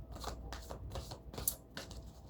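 A deck of tarot-style cards riffled and shuffled by hand, giving quiet, close, rapid papery flutters in several short bursts with no voices.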